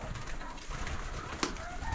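Pigeons coo softly inside a farm pigeon loft, with low murmuring calls over a faint, steady background hum and a brief sharper sound near the end.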